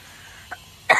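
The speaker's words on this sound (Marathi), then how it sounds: "खोकला लागलाय." An elderly woman gives a faint throat sound, then one sharp, close cough right at the end.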